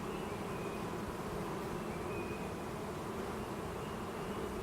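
Dense, steady hum of many honey bees around an opened hive during an inspection, a continuous close drone with no pauses and no voices.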